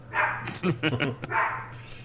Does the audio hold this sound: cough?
no